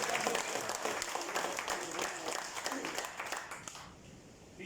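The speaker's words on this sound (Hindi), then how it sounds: "तालियां बजा दो।" A room full of people at a meeting claps in a thick, steady round of applause that thins out toward the end, with voices mixed in beneath.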